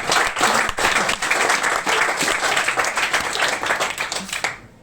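Comedy club audience clapping in response to a stand-up comedian's question, loud dense applause with scattered sharp claps that tapers off at the end.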